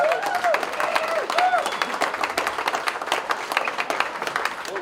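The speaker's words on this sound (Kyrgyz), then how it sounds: "кол чаап коелу, ушул балдар бактылуу болсун" Guests applaud at a birthday party, steady clapping throughout with a few whoops and cheers mixed in, fairly close and lively.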